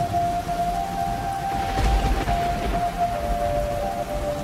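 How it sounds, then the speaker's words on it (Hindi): Heavy downpour on a stormy night in a cartoon, a dense continuous hiss of rain with a low rumble of thunder rolling through the middle, alongside a steady tonal hum. "एक शब्द में कहूँ तो मूसलाधार बारिश।"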